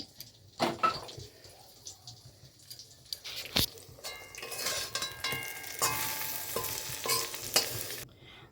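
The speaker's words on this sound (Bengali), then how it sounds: "বেগুনগুলোকে আগে সুন্দর করে ভেজে নিই এখানে কিছুটা ভেজে নিয়েছি" Eggplant slices fry in oil in a pan, with close sizzling that builds into a bright, dense hiss, broken by clattering stirs and turning of the pieces.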